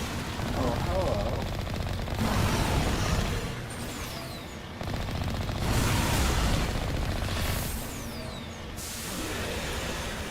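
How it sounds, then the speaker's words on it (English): Rapid gunfire from Mass Effect, with sustained automatic bursts rattling through the whole stretch. The firing swells and eases in waves amid other game combat noise. "Shooting."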